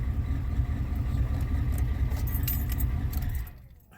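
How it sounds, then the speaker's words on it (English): A 1989 Chevrolet Blazer engine idles with a steady low rumble, close and loud, then cuts out abruptly near the end as the key switches it off, leaving near silence. "Turn off the engine."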